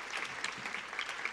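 A brief burst of audience applause rises at a community education summit keynote address, with moderately close, dense clapping that is soft overall.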